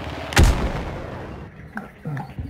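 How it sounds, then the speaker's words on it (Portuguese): A single sharp gunshot rings out in the Hunt: Showdown video game, loud and close, followed by quieter clatter and faint talk. "Um tiro quase pegou em mim, velho"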